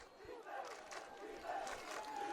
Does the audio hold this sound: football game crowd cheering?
yes